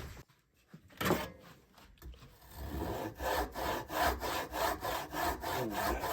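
An old hand crosscut saw cutting through wood, starting with a few hesitant strokes and then settling into a steady back-and-forth rasp, close and clear.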